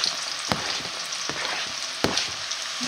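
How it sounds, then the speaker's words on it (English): Chicken and noodles fry in a pan with a steady, close sizzle and bubbling hiss. A few sharp knocks of stirring or utensil taps break in, and no one talks. "Excuse the sizzling."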